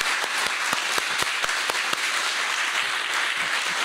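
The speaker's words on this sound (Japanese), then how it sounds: "足立監督にあの盛大な拍手を" An audience at a film screening followed by a director's talk applauds, steady and fairly dense clapping from a modest crowd, with some individual sharp claps standing out near the front.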